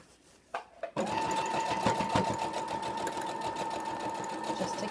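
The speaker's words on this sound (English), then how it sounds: "I'm going to connect this with one simple seam down the middle of the sequined border." A sewing machine stitches a simple seam down a sequined border on a dog dress, starting after a couple of soft clicks and then running in a fast, steady whir at close range with no talking.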